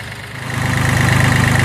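An engine idles and warms up, a loud steady rumble with a fast regular pulsing throb that grows slightly stronger and settles into an even beat.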